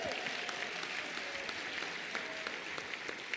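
An audience at a women in judiciary conference addressed by President Ramaphosa applauds in a steady, fairly faint patter of many hands clapping, continuing evenly throughout.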